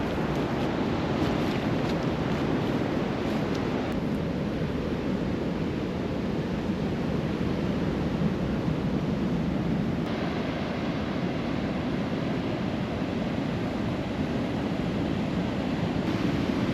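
Ocean surf rolls in along a jungle trail on Rurutu in the Austral Islands, a steady, loud wash of breaking waves mixed with wind against the microphone, continuous with no talking.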